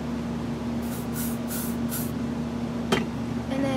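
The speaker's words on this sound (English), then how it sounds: "And what you're going to want to do is spray it" Hairspray misted onto teased hair: four quick, close hissing bursts in a row, then a quiet pause before a faint rustle, all over a steady low background hum.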